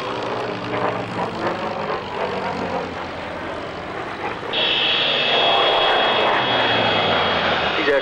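A jet fighter flies past at an airshow with a loud, sustained engine roar that swells and turns to a steady high whine as it passes, while a commentator talks over it.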